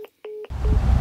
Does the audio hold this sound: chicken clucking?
no